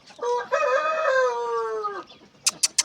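A fighting rooster being readied for a bout crows once, loud and close, with a long drawn-out call, followed by three short sharp knocks.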